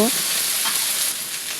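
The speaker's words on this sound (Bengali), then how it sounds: "এখন ভালো করে ভেজে নেব" Close, steady hiss and crackle of an onion, garlic and cumin paste frying in hot oil, continuous for a brief moment.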